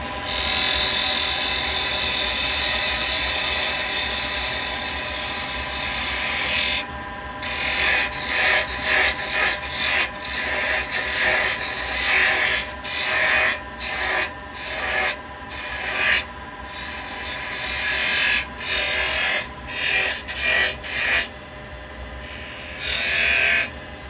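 Carbide chisel cutting wood on a lathe, a continuous spinning hum overlaid with rasping scrapes that come in repeated short strokes, loud and close.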